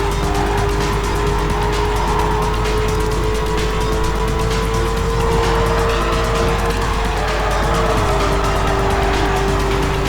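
A muscle car roars along in a Need for Speed Carbon race, its engine droning loud and steady throughout, with tire squeal and skidding noise on top.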